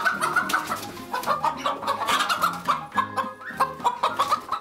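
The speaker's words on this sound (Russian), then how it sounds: "Здесь куры летом, птица," Chickens clucking inside a spacious, warm barn, a steady overlapping chorus of close clucks and short calls from several hens, dense and continuous throughout.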